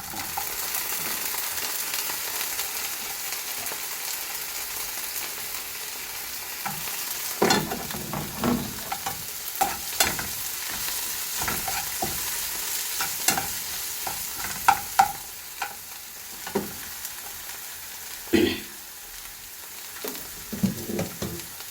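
Onions sauté in a frying pan with a soft, continuous sizzle, then spoon scrapes and stirring clinks join in irregular bursts for the second half, close and without talk.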